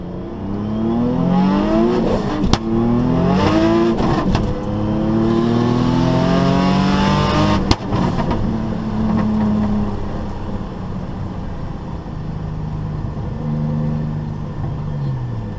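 Nissan Z engine with a new downpipe and high boost setting revs hard through the gears, loud and close, its pitch climbing repeatedly with brief shift breaks and a sharp pop partway through.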